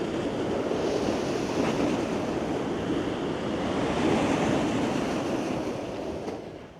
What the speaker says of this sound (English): the waves lapping up against the sea wall here in Blackpool